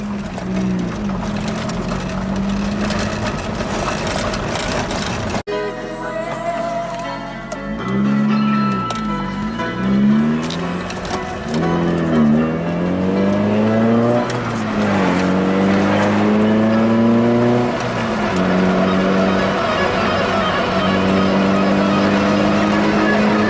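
A 1987 Toyota car's engine hums from inside the cabin on a morning drive along the road, loud and steady. The pitch rises and falls through several gear changes, with a short break in the drone partway through.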